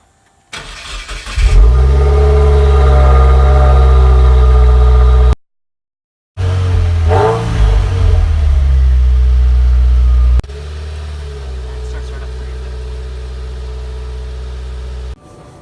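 A 2016 Subaru WRX engine cranks and fires up loudly, then settles into a steady idle. It cuts out briefly, restarts with a rev, and drops to a quieter, even idle.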